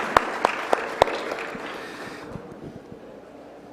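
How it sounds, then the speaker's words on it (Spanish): An audience at a health tourism congress applauds, with a few loud nearby claps at first, then thinner scattered clapping that tapers off quietly. "O sea que eso merece para mí un aplauso."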